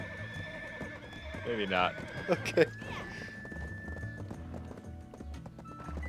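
Hooves clip-clop and a horse whinnies loudly in the Black Desert video game, with music and game sounds layered underneath, while someone talks briefly over it.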